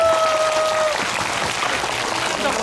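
An audience at a film talk event applauding as the actors leave, a dense, even burst of clapping from many hands, fairly loud, with a brief tone at the start.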